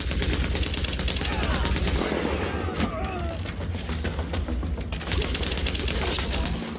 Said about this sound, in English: machine gun to the head